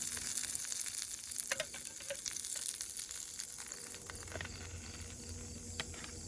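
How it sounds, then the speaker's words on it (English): Faint, steady sizzling of a grilled cheese sandwich frying in a pan, a continuous crackle with a few small pops and scrapes, no talking. "And yeah, grilled cheese. We got some sizzling. Throw that sandwich on."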